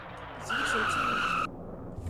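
Race car tires squeal in a sustained, loud skid lasting about a second during a wreck against the wall in a NASCAR racing video game at Atlanta Motor Speedway, with engine rumble underneath.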